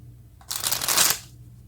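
Tarot cards shuffled and drawn in a single brisk riffle of about half a second, close and crisp, alone with no talking.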